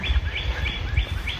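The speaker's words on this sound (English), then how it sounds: "the birds are so nice." Songbirds sing in a shady grove beside a planted garden, bright repeated phrases rising over a steady low rumble of wind or background noise, with no talking.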